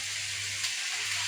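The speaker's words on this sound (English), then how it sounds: "now I can put in my onions" Onions hit a hot frying pan alongside carrots, giving a steady, close sizzle with a low background hum and no talking.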